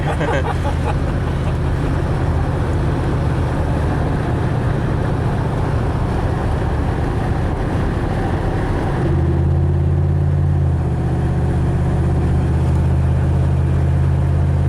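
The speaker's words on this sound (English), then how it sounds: "Definitely in fuel cut, and the idle air control valve is, you know, engine's braking a little bit." Chevrolet Equinox driving at highway speed, engine braking in fuel cut: a steady loud road and engine drone, with the engine hum shifting to a lower, smoother tone about two thirds of the way through, no talking.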